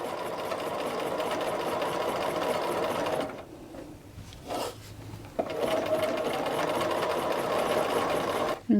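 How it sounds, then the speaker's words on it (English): A sewing machine stitches a knit dress seam in a steady, loud mechanical whir, pausing briefly in the middle with a couple of soft handling noises before the rapid stitching resumes. "We just want to sew it so that we have a nice smooth and flat seam."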